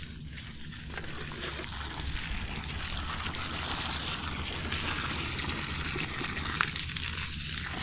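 Water poured steadily onto the soil around the base of a farm tree, a continuous splashing wash that stays loud and unbroken throughout, close by with no voices.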